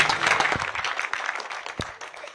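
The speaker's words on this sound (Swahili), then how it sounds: "Tuongezee mheshimiwa wetu makofi mazuri." A crowd claps for an honourable member of parliament from Gatundu North, a dense, close burst of applause that carries on steadily before easing slightly.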